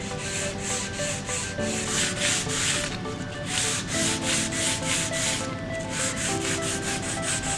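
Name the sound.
sanding carbon fiber seat post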